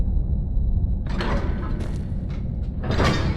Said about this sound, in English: Let me get the door.